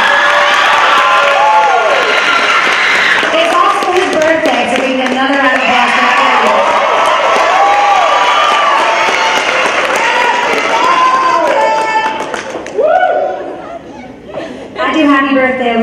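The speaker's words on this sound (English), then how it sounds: "If we can get a round of applause for him right now." An audience at a middle school holiday concert breaks into sustained applause with cheers, whoops and laughter, loud and continuous, easing off near the end as voices and chatter carry on.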